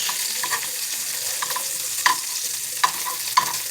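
Blanched asparagus spears browning in a hot pan, a close, steady sizzle broken by three sharp clacks of a utensil moving them around, with no talking.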